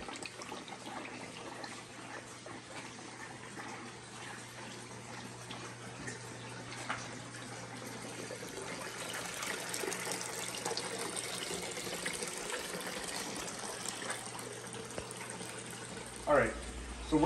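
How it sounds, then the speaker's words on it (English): Steady running water pours and trickles down a custom-built bar, a continuous splashing wash that fills the whole stretch, with a brief louder knock near the end. "you'll see how the water flows down"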